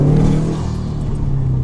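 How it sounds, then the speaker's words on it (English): A professionally tuned turbocharged car holds a loud, steady engine drone close to the mic, a sustained rev with a gritty exhaust rumble. "that's why now my car does flutter"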